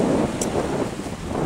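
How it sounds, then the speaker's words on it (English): Strong wind buffets the microphone outdoors in a continuous low rumbling roar with no talk. "What is this wind?"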